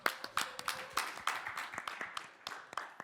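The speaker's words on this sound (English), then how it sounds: "Give them a round of applause before they begin." A sparse audience claps for a panel at the NFT London 2022 conference, with uneven claps at a moderate distance that gradually thin out.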